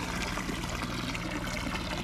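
Rust-tinted rinse liquid pouring out of an old rusty cast iron piece being restored outdoors, a steady, close, continuous trickling flow with no pauses and no talking.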